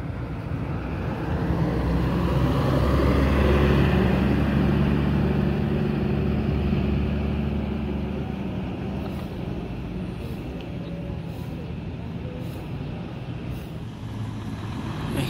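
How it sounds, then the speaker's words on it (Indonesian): Laju Utama intercity bus on the Sukabumi–Bekasi route rumbling through the Sukabumi bus terminal, a deep diesel drone that swells and fades as it moves past, with faint background clatter. "Ini ada lagi bis laju utama Sukabumi Bekasi"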